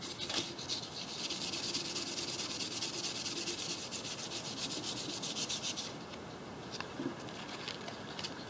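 Sandpaper scuffing the glass housing of a car foglight, a close, steady rasping rub with rapid back-and-forth strokes that soften near the end, with no talk.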